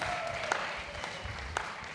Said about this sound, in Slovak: prosím ešte jednou veľký potlesk pro tretí kolo